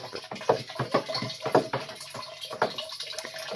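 Home-brewed beer stirred in a pot, repeated sloshing, swishing strokes in an uneven rhythm, close and moderately loud, with no talking.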